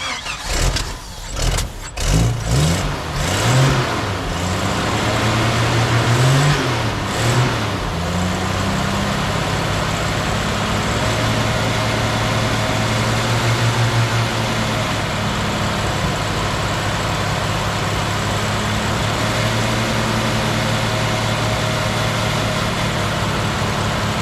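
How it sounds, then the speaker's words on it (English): A Jeep engine cranks and starts in roughly 40-degree cold, catches with uneven sputters, then settles into a steady, loud, rough idle that drones on without talk. "the Jeep won't quite idle because it's like 40 degrees"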